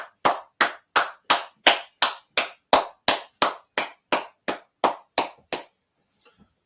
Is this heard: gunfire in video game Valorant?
no